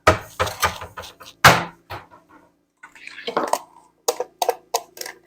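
A small dish clinks and rattles as it is taken from a cupboard and set down on a kitchen counter, with sharp clatters and knocks heard close up amid intermittent talking.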